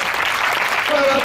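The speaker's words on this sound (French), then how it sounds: "Est-ce qu'on va acclamer le Seigneur?" A church congregation bursts into applause and cheering, a dense, continuous wash of many clapping hands filling the room at close range for a brief moment.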